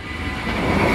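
A freight train passes at a crossing in Sint Joost, a loud, close broadband rumble and roar that builds steadily over a short moment.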